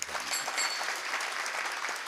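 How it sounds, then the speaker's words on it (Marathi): Audience clapping for the singers and musicians at a comedy kirtan, a dense, steady applause from a crowd that fills the whole stretch at a moderate, even level. "एकदा गाणाऱ्यासाठी वाजवणाऱ्यासाठी प्रेमाने टाळ्या वाजवायच्या"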